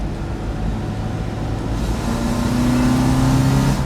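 A Toyota Celica GT-Four engine runs steadily with a low rumble, its drone building slightly as a faint tonal hum rises in the second half.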